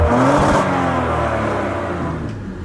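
A 2017 Audi RS model idling and revving with its sports exhaust valve closed, a smooth mid-pitched engine drone that swells briefly, then settles into a steady hum, loud and close with no talking.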